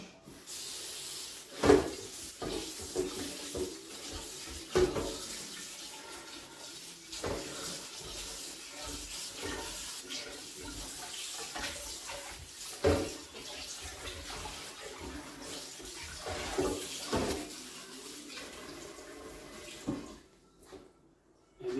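Cut beef sits in a pot and is washed under running tap water, splashing and sloshing for about twenty seconds with hands rubbing the meat and occasional clanks against the pot, ending with the flow stopping.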